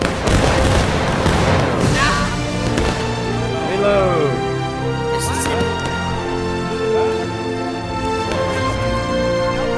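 Musket volley fire in War of Rights, a Civil War battle game, with a dense crackle of overlapping shots at the start followed by scattered distant reports, heard under ongoing battlefield noise and voices.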